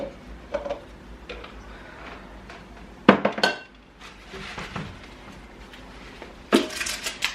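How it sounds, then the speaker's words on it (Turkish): Dishes and cutlery clatter and clink in sporadic bursts as they are loaded into a dishwasher, with a couple of louder crashes of plates being stacked close by. "Bulaşıkları makineye koymam lazım."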